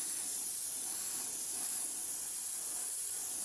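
An airbrush sprays a light coat of paint onto a shallow-water baby bass crankbait lure, making a steady, soft, even hiss that is close and unbroken throughout, with no voices.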